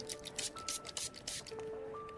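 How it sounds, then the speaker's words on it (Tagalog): Short bursts of alcohol disinfectant spray misted onto a motorcycle helmet, several quick hissing puffs in a row at close range over faint background tones. "Pero isprayan ko po ulit sandali ng alkohol bago niyo isuot."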